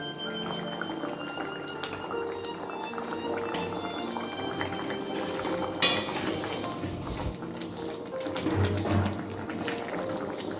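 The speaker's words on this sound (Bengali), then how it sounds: "মাছগুলো দিয়ে 1 মিনিট ফুটিয়ে নামিয়ে নিলেই রেডি বাটা মাছের ঝোল" Bata fish curry with potatoes bubbles in a pot, a steady close boiling and simmering hiss with occasional louder pops and stirring.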